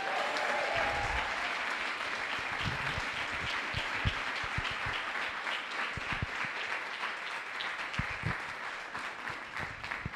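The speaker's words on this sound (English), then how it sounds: "So give a rock star round of applause for Connie" Sustained audience applause at a CreativeMornings morning talk in New York, steady dense clapping throughout the whole stretch at a fairly even level.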